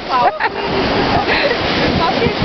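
Steady, broad wash of sea surf fills the recording close to the microphone, with some wind rumble and a voice speaking briefly at the start.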